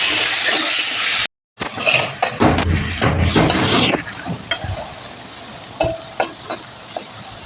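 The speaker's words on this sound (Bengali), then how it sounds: "ডাটা আর কাঁঠালের আটি এবার একটুখানি লবণ আর একটুখানি হলুদ দিয়ে এবার সুন্দর করে ভেজে নেব" Vegetable stalks, potatoes, green chillies and jackfruit seeds fry with salt and turmeric in a pan of hot oil. A loud, crackling sizzle is broken by a brief silence, then vigorous stirring with scraping and clattering.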